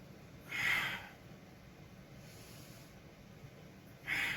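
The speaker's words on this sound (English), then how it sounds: "exhale when I press up." Two forceful exhales through the nose or mouth during home MMA press-up training, each about half a second long with a quiet pause between, heard close and alone.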